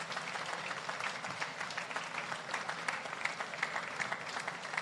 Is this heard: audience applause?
yes